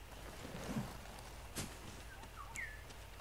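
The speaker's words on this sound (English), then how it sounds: "Bird." Bird chirps in Ghost of Tsushima, a few short bright calls late in the moment, faint over a soft rainy ambient bed.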